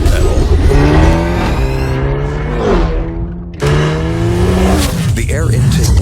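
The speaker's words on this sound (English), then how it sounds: "The acceleration starts as soon as your foot touches the pedal." A 2022 Hyundai Elantra accelerates hard, its engine rising in pitch through rising sweeps, dipping briefly, then revving up again, loud and close over a music bed.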